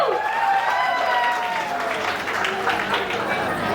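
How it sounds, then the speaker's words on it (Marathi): Applause at an engagement celebration, a loud burst of clapping from a gathered crowd, with excited voices and a cheering shout rising over it. "जोरदार टाळ्या."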